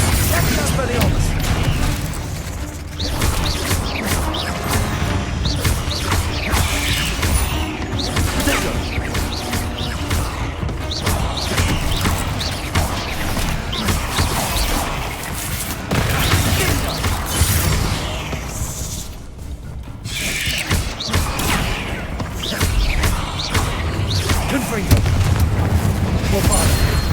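Confringo and Bombarda spells blasting in Hogwarts Legacy, with repeated loud booms and crashes over dense game action and music, alongside voices shouting spells.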